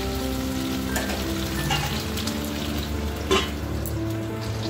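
Stuffed pointed gourd (potol) frying in a covered pan at home, a steady oil sizzle holding throughout with a few small spits and pops, close and even, no talking.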